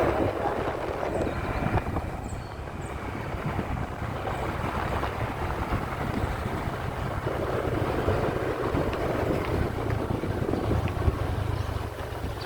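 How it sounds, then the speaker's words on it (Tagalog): Steady wind rushing and buffeting against the microphone, a continuous low roar throughout with no talking. "Hangin na oh."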